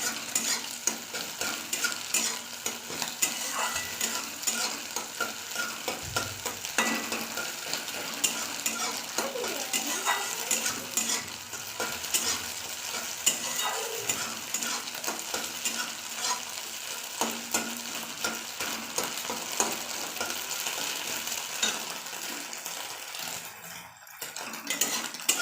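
Beaten, salted eggs sizzle in oil in a wok and are stirred continuously with a utensil that scrapes and clinks against the pan, a steady close frying hiss throughout.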